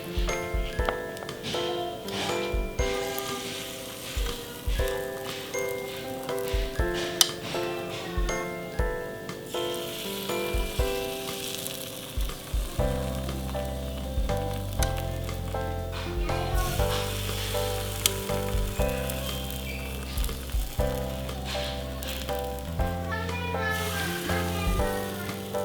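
Batter sizzles in a buttered sandwich toaster pan, a soft continuous frying hiss heard close up beneath louder background music throughout, with no voices.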